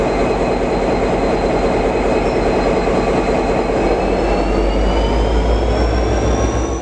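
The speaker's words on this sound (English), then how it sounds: "As the train departs Bendigo to continue its journey to Swan Hill" A V/Line N set passenger train departing Bendigo station, a steady loud diesel drone with rising engine whine and rumbling low end, continuous throughout with no voices.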